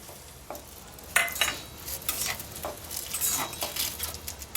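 Green chillies and cabbage hit hot oil in a pan and are stirred, giving a soft sizzle with bursts of scraping and tossing, close and moderately loud with no talk.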